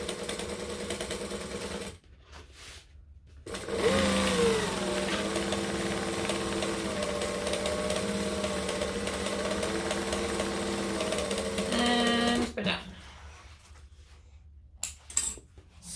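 A sewing machine stitches backpack fabric in a long, steady mechanical whir. It runs loud and close for about nine seconds and is bracketed by brief pauses and small handling clicks.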